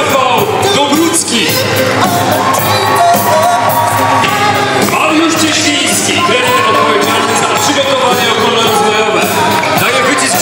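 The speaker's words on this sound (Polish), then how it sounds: "Poproszę Państwa o wielkie brawa." An audience cheers and applauds at a team presentation for the Betard Sparta Wrocław sports club, a loud, dense and continuous crowd roar mixed with sustained tonal sounds throughout.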